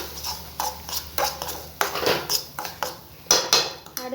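A spoon stirs roasted semolina in ghee in a pan over a medium flame, making repeated scraping and clinking strokes in an uneven rhythm, close up.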